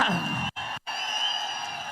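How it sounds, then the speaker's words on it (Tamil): A large crowd roars and cheers at an outdoor political rally in Madurai South, a loud, continuous wash of voices with two brief dropouts in the middle. "நல்லா கைத்தட்டு கைத்தட்டு"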